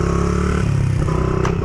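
Stunt motorcycle engine held steadily on the throttle during practice, a loud, continuous buzzing drone close by with slight fluctuations in pitch and a brief scrape near the end.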